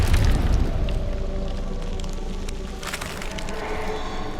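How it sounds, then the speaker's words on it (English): Explosion of detonating corpses in an audio drama, a heavy low boom at the start that gives way to a dense rumbling, crackling wash with scattered sharp bursts, with no voices. "As it explodes, Herodotus channels all the corpses nearby, activating their implants, causing them to detonate."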